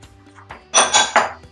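A utensil scrapes and clinks against a cooking pot while food is stirred, three quick bright metallic strokes after a quiet moment, close and loud.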